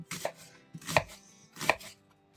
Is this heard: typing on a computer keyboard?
no